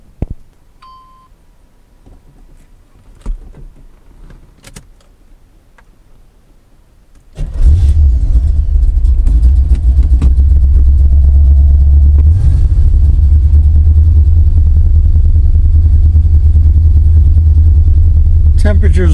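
A C4 Corvette with Crossfire injection, unstarted for about a month, cranks and roars to life, then settles into a loud, steady rumbling idle after a quiet stretch of small clicks.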